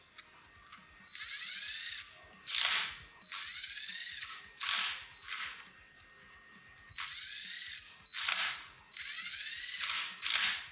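A ratchet driver clicks rapidly in bursts while grub screws are tightened into a stainless steel barbell sleeve, several loud, close runs of ratcheting separated by short pauses.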